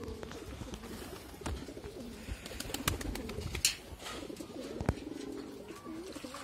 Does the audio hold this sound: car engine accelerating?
no